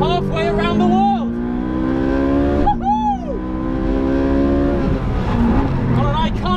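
A Ferrari 458 Speciale screams around the Yas Marina circuit, its high-revving engine rising through the gears with sharp shifts and a rev dip midway, loud and close, with a voice in the cabin over it.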